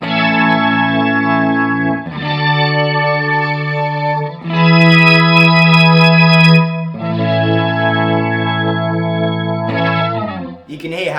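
Guitar strummed hard through a Mooer Mooergan organ simulator pedal gives loud, sustained organ-like chords, four long chords in a row with a brighter, more aggressive swell on the third, played alone.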